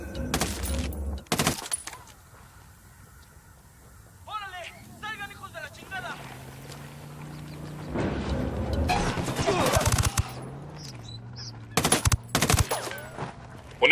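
Gunfire in the Ghost Recon Wildlands video game, with sniper and machine gun shots: loud sharp bursts at the start and again near the end, separated by quieter game sounds and music, with talk over parts of it.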